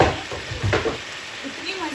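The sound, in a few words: chicken liver frying on a tawa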